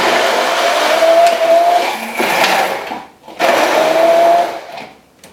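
Countertop blender loudly whirring as it purees half a cup of raw almonds into a creamy curried dressing, two sustained high-speed runs with a brief pause between them.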